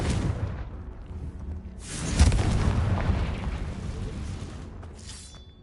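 A Confringo blasting curse exploding in a Harry Potter video game, a deep booming blast that swells and rumbles for a few seconds before fading, with a short crackle near the end.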